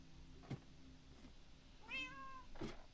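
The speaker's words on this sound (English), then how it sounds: "Hello, kitty." A house cat meows once in a rising, drawn-out call near the two-second mark, close by, with a couple of faint soft thumps before it and a low steady hum underneath.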